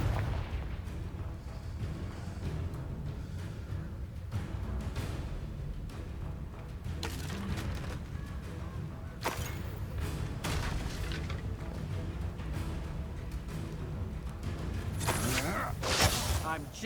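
Explosive spell blasts crackle and boom during combat in Hogwarts Legacy, with bursts and whooshes rising over a dense, rumbling background of game noise and music.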